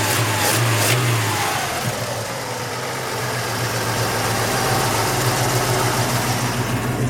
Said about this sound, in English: you've actually got dual exhaust, true dual exhaust right here. Really, really cool. Great. Healthy sounding engine.